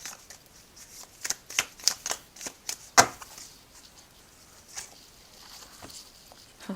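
Oracle cards are shuffled and drawn by hand, a close, quiet run of soft riffling slaps and papery taps, busier at first and then thinning to a few light flicks.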